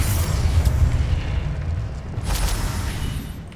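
Confringo fire-blast spell from the wizarding game Hogwarts Legacy: a loud, deep boom with a rumbling tail, then a second burst with a crackling high edge a couple of seconds later, no speech.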